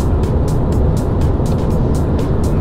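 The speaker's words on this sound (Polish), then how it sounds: "momentalnie 4 samochody się zjechały" Several cars pull over at a roadside in Japan, a steady rumble of motor traffic with swishing passes, loud and close throughout.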